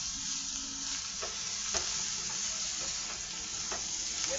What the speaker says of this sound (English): Check when you hear the sound and to see if you have sticking at the bottom of your pot.